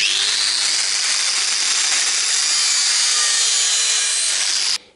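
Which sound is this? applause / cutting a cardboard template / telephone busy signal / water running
cutting a cardboard template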